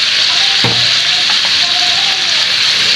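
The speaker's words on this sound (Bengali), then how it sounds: "মাছটা এইভাবে ভাজা ভাজা হবে" A loud, continuous hiss of fish frying in hot oil in a pan for an Eid noodle dish, with one brief clink of a utensil near the start.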